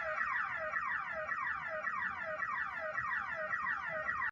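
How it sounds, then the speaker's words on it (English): A car alarm wails steadily nearby, its warbling tone repeating in quick, even cycles and cutting off abruptly at the end, with no voices. "Sorry, a car alarm went off."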